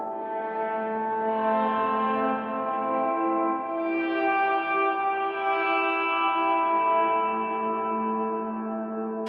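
Sustained guitar chord through a Line 6 Helix/HX Stomp bloom reverb swelling into a lush, washy reverb, notes blooming and blending into a long shimmering tail, alone and fairly loud.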